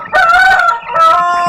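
Aseel chickens on a farm give two loud, close, drawn-out harmonic calls, separated by a short dip, with no talking.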